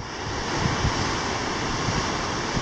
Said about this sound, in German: Und da unten rollen die Wellen in die Bounty Bay vom Pitcairn.